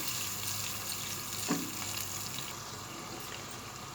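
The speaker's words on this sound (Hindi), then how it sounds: "हम इसको पकाएंगे प्याज को ऑयल के साथ" Steady crackling sizzle of onions frying in oil, continuous and fairly close, with a brief scrape of stirring near the middle.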